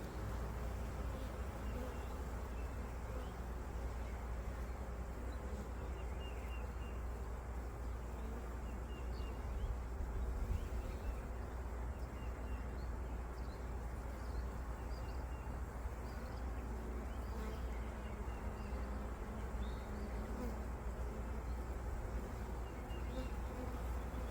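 A newly arrived bee swarm hums continuously outdoors, a dense, steady buzzing of many bees at moderate distance, fairly faint and unbroken for the whole stretch.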